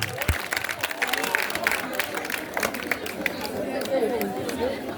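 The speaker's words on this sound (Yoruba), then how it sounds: "Ẹ pàtẹ́wọ́." Scattered clapping from a crowd of students at a school quiz, mixed with steady chatter and talk, moderately loud and continuous under the voices.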